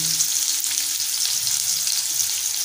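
Sliced onion and crushed garlic frying in hot oil for a potato bhaji, a continuous hissing sizzle with faint crackles, close and steady, without speech.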